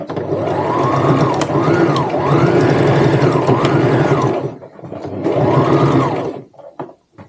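A sewing machine stitches a tote bag in close, whirring runs. It makes a long burst, pauses briefly, runs again, then slows to a stop.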